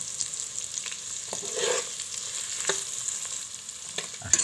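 Mutton with spices, whole cumin and salt being stirred in a rice cooker, a soft continuous sizzle with occasional scraping knocks of the spoon, no talking.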